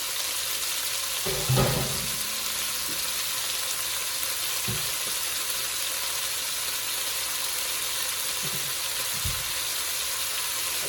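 Chuck roast browning in an Instant Pot, a steady soft sizzle with a few brief knocks and clatters of handling the meat; no one speaks.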